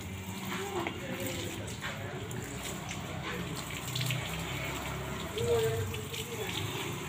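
Water runs steadily from a tap while a carpet is washed and scrubbed after swimming, a continuous near hiss with splashing, and voices talk over it now and then.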